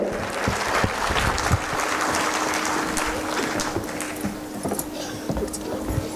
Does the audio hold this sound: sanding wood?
no